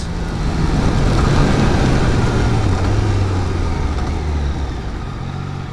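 A Triumph Daytona 600cc motorcycle braking hard from 100 on its rear brakes alone, with a steady loud rush of wind and engine noise and a low engine drone that drifts lower as the bike slows.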